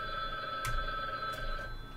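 Old Windows-style system chimes ring out during an online session of the drawing game Gartic Phone, steady tonal sounds with a couple of soft clicks, no talk over them.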